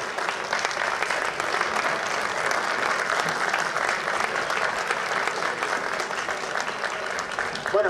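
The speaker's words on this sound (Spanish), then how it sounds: "Ahora sí, un aplauso para ellos dos." Steady, dense audience applause after a fight between two reenactors staging a falcata and spear combat with caetra and scutum shields, an even wash of clapping that holds without pause from start to end.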